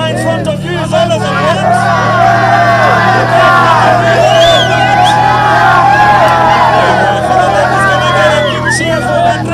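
A large outdoor crowd at the 2026 WRC Safari Rally Kenya ceremonial flag-off cheers and whoops around a rally car, with loud shouting and chatter sustained throughout and a voice carrying over the noise.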